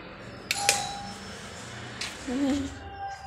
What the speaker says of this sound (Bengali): এটা হচ্ছে কলিং বেল ছিল।